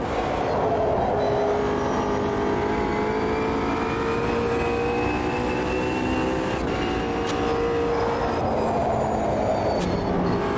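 Automobilista 2 GT3 car heard from the cockpit, steady engine drone with a rising, sweeping gearbox whine layered over it, continuous and loud throughout with brief shifts and dips.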